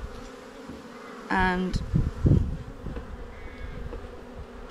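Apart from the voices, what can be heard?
honeybees buzzing during beehive inspection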